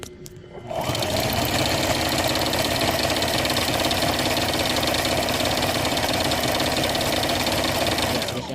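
A Brother portable sewing machine, just oiled and freed up after a stiff zigzag fault, starts up and runs steadily at close range, its rapid mechanical chatter continuous and even from start to finish.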